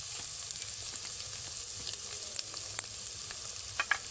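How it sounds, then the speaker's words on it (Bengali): Ginger, garlic, onion and tomato masala with turmeric powder frying in a pan for an okra dish, a soft continuous sizzle with small crackles and a few faint utensil clicks, close and fairly quiet. "আবারও 1 মিনিট 2 মিনিট মতন মশলাটাকে ভেজে নেব।"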